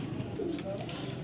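A Teddy breed pigeon, a breeder bird offered for sale in Lahore, gives a soft, low coo at close range within a short murmuring stretch, faint against a busy background hum.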